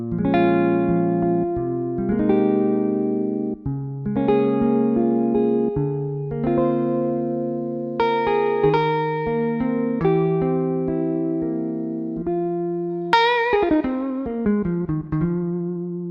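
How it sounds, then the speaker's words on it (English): A sampled 1975 Gibson electric guitar plays clean sustained single notes and chords through an emulated plate reverb, ringing smoothly with long warm tails, alone and fairly loud. "Old school, beautiful electric guitar, 127 velocity layers with a really well emulated plate."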